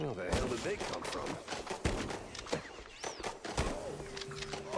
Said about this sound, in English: how does no one in the Opera House hear the gunfire?